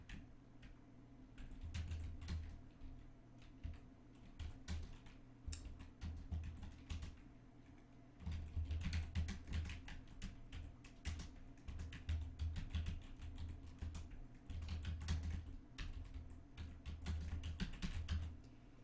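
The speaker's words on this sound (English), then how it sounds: "I'm going to type them in that order" Steady typing on a computer keyboard while entering a custom sort list in Excel, a continuous run of quiet close key clicks in uneven bursts with a few short pauses.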